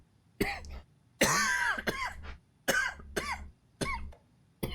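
A character in the video game Alan Wake 2 coughs hard several times in a row, each cough loud and close, some of them raspy and drawn out, with short pauses between.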